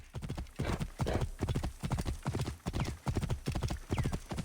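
Horse hooves clip-clopping at a steady trot in Assassin's Creed Origins, close and rhythmic with regular paired footfalls throughout. Faint whinny-like sounds are mixed in.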